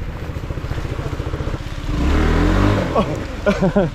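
A motorcycle engine on an extreme mountain trail ride chugs in a steady idle, then revs up loudly and close before falling back, with voices talking over the end.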